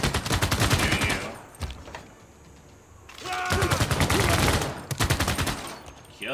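Rapid gunfire bursts in the strategy game Civilization 6, loud crackling volleys that come in two main clusters with a quieter lull between them, and no voice over them.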